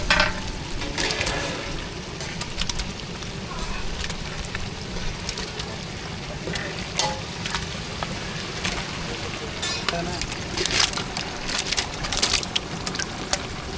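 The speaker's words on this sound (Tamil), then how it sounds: "சேர்த்தாச்சு நல்லா மசாலா கூட கலந்து விட்டுக்கலாம்" Mutton is stirred into a thick biryani masala gravy in a pot, with a continuous sizzle and frying hiss broken by scraping and clacking spoon strokes at close range, and a voice talking over it.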